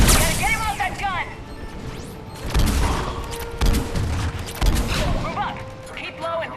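Gunfire from an enemy-manned mounted gun during combat in Mass Effect 3, several heavy bursts and impacts spread across the seconds, loud and punchy, with voices calling out in between.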